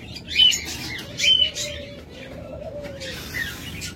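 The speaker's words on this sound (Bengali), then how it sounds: "এরকম অসংখ্য পাখি রয়েছে" Pet lovebirds, budgerigars and cockatiels kept in pairs for sale, giving a few sharp chirps and a soft cooing tone, moderately close against steady background noise.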